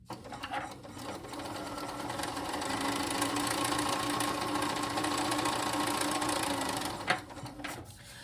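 A sewing machine stitching a quarter-inch seam on quilt pieces runs in one continuous whirring burst of about six seconds, close and steady, then stops with a few small clicks.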